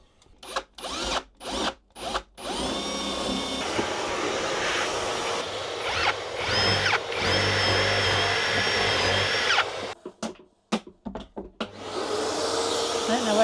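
A vacuum cleaner (hoover) runs inside a Sprinter van under conversion, switching on and off in short bursts before a long continuous loud whine, then more stop-start pulses and a final steady run.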